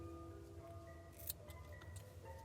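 Scissors snip through yarn while trimming the inner edges of a yellow crocheted amigurumi lily pad piece, a few quiet close cuts with a sharper click near the middle.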